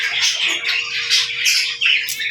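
Green-cheeked conures near a nest box give loud, harsh, overlapping chirps and squawks in quick succession, close by, with a faint steady hum underneath.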